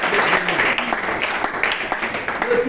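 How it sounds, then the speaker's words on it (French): A church congregation claps and cheers for the Lord, a dense burst of applause with voices mixed in, loud and continuous throughout. "Est-ce qu'on peut acclamer pour le Seigneur?"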